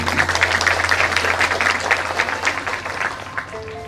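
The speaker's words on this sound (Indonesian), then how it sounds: "Tepuk tangan sekali." Applause from an audience at an evening discussion gathering, a steady wash of many hands clapping over a low constant hum, fading toward the end.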